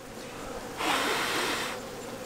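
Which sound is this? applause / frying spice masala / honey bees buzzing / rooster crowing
honey bees buzzing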